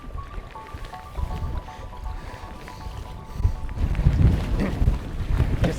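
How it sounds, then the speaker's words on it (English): Wind gusting against the microphone while paddling a Wenonah Prism canoe through a canyon on Saguaro Lake, Arizona, a steady rumbling roar that swells louder in the second half, with faint water and paddle sounds and a thin tone beneath. "these canyons get really windy out here"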